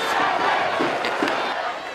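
A large crowd roars steadily at a Featherstone Rovers versus Leeds Rhinos rugby league friendly at the LD Nutrition Stadium, a dense, continuous wash of cheering and shouting that fills the whole moment.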